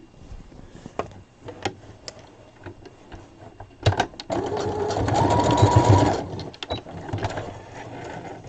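A home sewing machine stitching a small 18-inch doll's peasant top, with a short rapid run of stitching near the middle, set among quiet handling clicks and pauses.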